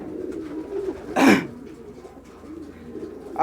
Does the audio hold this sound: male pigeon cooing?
yes